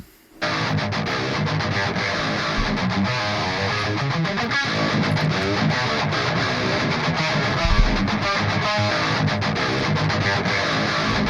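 High-gain electric guitar chugs in a dense, distorted, palm-muted mix shaped with narrow EQ cuts on the harsh top end, playing steadily and loudly throughout after a brief quiet start.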